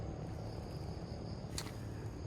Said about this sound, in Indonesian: Ada suara burung, ada suara jangkrik, ada suara macem-macem.